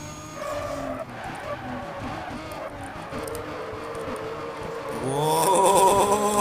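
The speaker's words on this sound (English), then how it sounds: "Look at this car, how it drift." Tires skid and squeal as a Nissan Silvia drifts in Need for Speed Carbon, with steady engine roar under the squeal and a louder screeching burst near the end.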